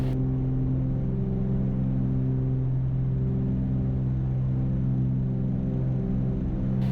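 A small aircraft engine roars steadily at full takeoff power, a loud, constant droning hum with strong low harmonics that holds without break from start to finish.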